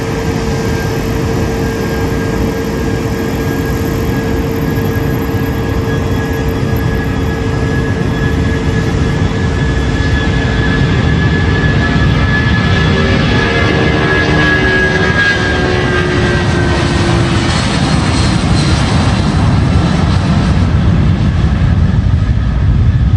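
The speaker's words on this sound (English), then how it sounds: "For the first time since 1991, that was a Pan Am jet" A Pan Am jet airliner takeoff, loud sustained engine roar with whining tones that rise and shift as the aircraft accelerates, close and continuous for over twenty seconds with no talk.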